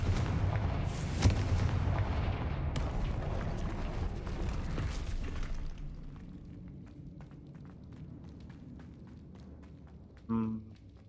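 Fiery Confringo spell blasts in the video game Hogwarts Legacy, a loud booming burst with rumbling debris that fades into scattered clicks, ending with a short spoken exclamation.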